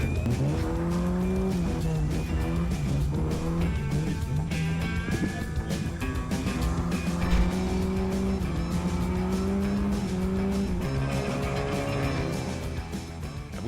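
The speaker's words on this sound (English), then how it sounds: "but the other guy in the car with me, Ika, wanted to really show me what it could do." A car driven hard on a test drive in a video game, engine revving loudly and continuously with shifting pitch and repeated tire squeal, close and unbroken.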